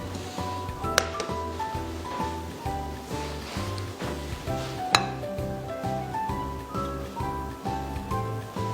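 Beef fillet marinated in salt and black pepper frying in hot oil in a pan, a steady sizzle with rhythmic scraping and stirring, plus two sharp clacks of utensil against the pan.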